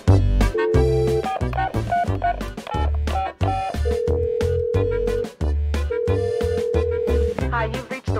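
A telephone ringing in a quiz game while calling the Water Reclamation District: repeated melodic ring tones in a steady, loud rhythm, with no talking.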